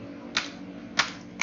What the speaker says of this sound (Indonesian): kemudian kita ketikkan kodenya